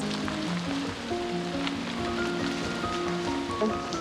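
Rain falls outdoors as a steady, even hiss that holds throughout, with no voices over it.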